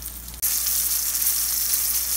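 Steady, loud sizzling of green tomatoes frying in a pan, starting abruptly after a brief quiet moment and continuing evenly without any talk.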